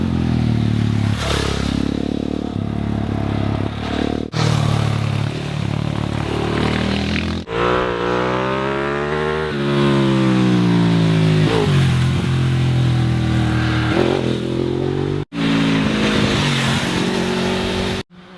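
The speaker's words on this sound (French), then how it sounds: "l'adhérence est bien meilleure et les pilotes peuvent ouvrir les gaz en grand" Rally motorcycles climbing a hill at the Rallye des Garrigues 2014, engines loud and close, revving hard with rising and falling pitch as riders open the throttle and shift, one after another.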